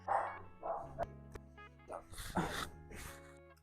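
A dog gives several short barks and yips spaced out over a few seconds, fairly close, with some quieter breathy sounds between them.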